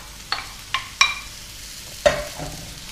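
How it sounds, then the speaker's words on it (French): Onions going into a frying pan of heated olive oil, a soft low sizzle punctuated by a few sharp clinks and scrapes of a utensil against the pan. "j'ai mis une poêle à chauffer avec un petit peu d'huile d'olive et je vais mettre mes oignons"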